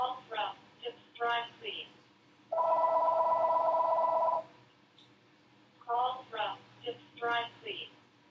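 Telephone ringing at a dry cleaning agency, one sustained electronic ring tone between bursts of a person talking before and after it.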